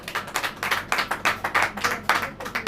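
Church congregation clapping in steady rhythm during a worship service, sharp repeated hand claps in a brisk even beat, moderately loud and close, with no talk over them.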